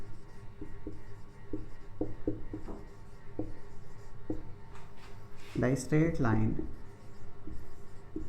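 Writing on a board during a class 10 physics lesson on light, a series of short scratchy taps and strokes, fairly close, with a teacher's voice talking partway through.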